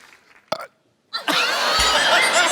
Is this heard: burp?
yes